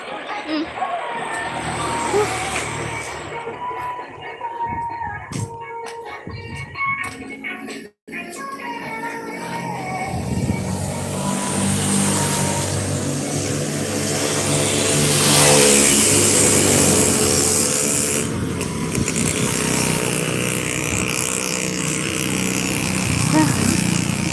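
A tricycle's medium engine revving up and holding a loud, rising drone, with people talking over it amid street noise.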